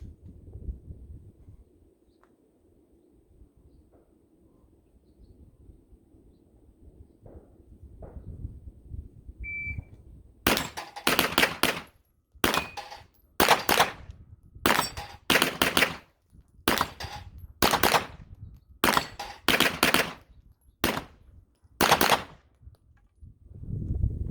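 Gunfire at steel targets and a plate rack during a shooting practice session: after a quiet stretch, a fast string of about a dozen sharp, loud shots rings out in uneven bursts, with no talk.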